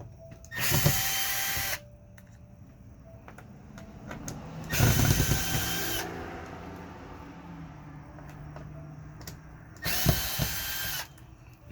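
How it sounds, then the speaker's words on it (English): A screw gun whirs in three separate bursts, each a couple of seconds long, backing screws out of old tracks on the wall of an '86 Apache Cimarron II camper, with quieter clicks and handling noises between bursts. "now going to use the screw gun to remove the old tracks out of the wall"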